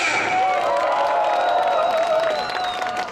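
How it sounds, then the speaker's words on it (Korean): Rally crowd applauding and cheering in honour of police officers at an outdoor gathering, a steady wash of clapping with shouts and whoops running under it throughout. "오늘 이 행사를 지켜주고 있는 우리 경찰 여러분들께도 박수를 보내야 합니다"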